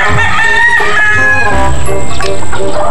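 Loud, close chickens cluck busily while a rooster's drawn-out crow rings over them, a dense farmyard clamor with no talking.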